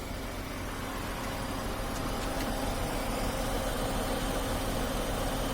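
Tata Altroz XE car engine idling, a steady, unbroken hum heard up close and alone for about five and a half seconds.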